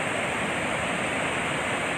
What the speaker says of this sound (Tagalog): Kaya kailangan magpapalabas na yung dam ng tubig